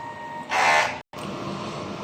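An inkjet printer runs a heat clean cycle on its print head, a brief loud buzzing whir over steady mechanical running noise, then a sudden short silence before the running resumes.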